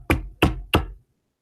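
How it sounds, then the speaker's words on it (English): Three firm, evenly spaced knocks on a door ring out sharply and close, followed by silence. "knocked at one of its doors"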